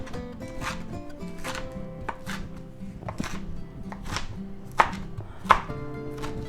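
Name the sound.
knife coarsely chopping spinach leaves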